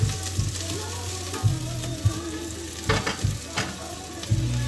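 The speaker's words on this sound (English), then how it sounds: "Still got my onions over here frying up." Onions fry in a pan with a steady, close sizzle, punctuated by irregular scraping knocks as they are stirred, with no voices.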